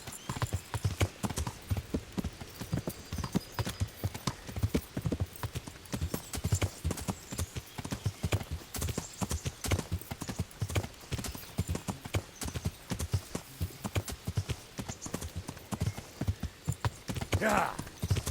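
Steady clip-clop of horse hooves trotting throughout in the video game Kingdom Come: Deliverance, with a whinny near the end and voices talking faintly underneath.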